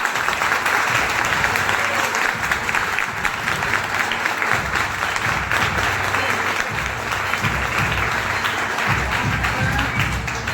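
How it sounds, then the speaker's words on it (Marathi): Sustained, loud applause from an audience for students fills the whole stretch, dense and even, at an academy's test event. "मुलांसाठी खास टाळ्या झाल्या पाहिजे"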